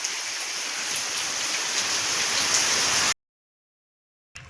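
Unseasonal rain falling over farm fields, with a dense, steady hiss that holds evenly for about three seconds before cutting off, then returning briefly at the end, with no voices.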